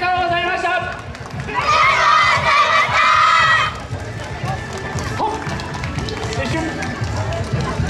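Children of a kids' Yosakoi dance team shout energetic festival chants at the Yātose Akita festival. A loud, ringing group cry swells over a busy outdoor crowd and then fades back into general crowd noise.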